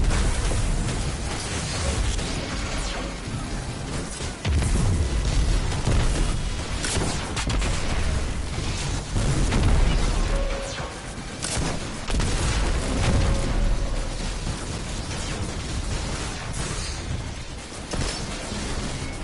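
Repeated video-game gun firing comes as a dense, continuous stream of booming shots and muffled blasts, loud and close throughout, with little talk.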